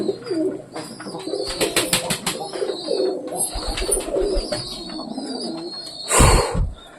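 Pet pigeons being hand-fed indoors on a rainy day coo close by in repeated throaty bursts, with wing flutters and small clicks, and one louder flapping burst near the end.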